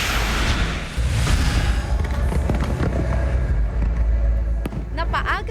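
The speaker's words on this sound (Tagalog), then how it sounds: "Pinakamalaking fireworks display sa Pampanga, dinayo ng libu-libong katao." A large New Year fireworks display in Clark, Pampanga, with dense rolling booms and crackles and a loud, sustained barrage, a crowd audible beneath it.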